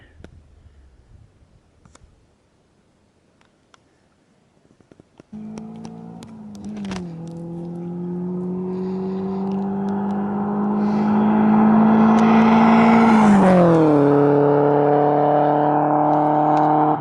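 A Nissan S13's engine with a new full exhaust idles and then revs up, its deep exhaust drone rising in pitch and loudness before easing back, close and steady.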